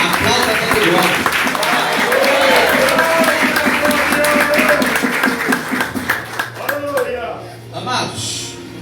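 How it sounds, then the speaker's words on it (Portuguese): A church congregation applauds, a loud sustained wash of clapping from many hands that fades near the end, with a preacher's voice and music beneath it. "Quantos podem aplaudir a palavra de Deus? Aplauda todo mundo."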